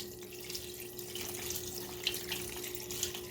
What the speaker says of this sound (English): So now here comes the boiling water mixture. I'm just going to pour this gently over the top.